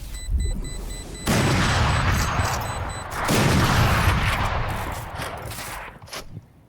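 Gunfire from a tactical shooter video game, a dense burst of shots with booming impacts that comes in waves over several seconds, loud and close, with a brief voice faintly underneath.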